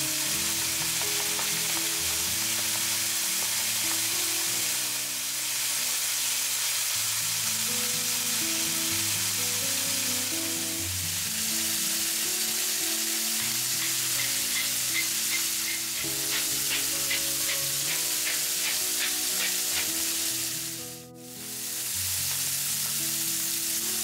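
Turkey meat sears in olive oil in a frying pan, with paprika powder added, giving a steady, loud sizzle and crackle that runs for the whole stretch with no talking.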